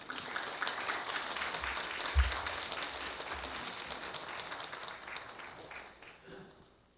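A church congregation applauding steadily for several seconds to welcome a pastor, dense clapping that swells and then tapers off toward the end.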